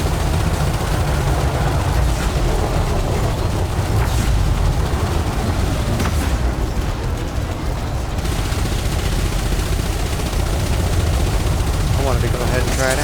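Multi-cannons in Elite Dangerous fire continuously in a dense, rumbling stream of rapid shots, heavy low-end roar throughout with a voice talking over it.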